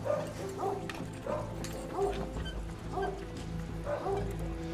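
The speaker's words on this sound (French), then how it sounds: "Les chiens aboient" Dogs bark at night in a snowy mountain plateau setting, about four barks spaced roughly a second apart, moderately distant, over a low rumbling background.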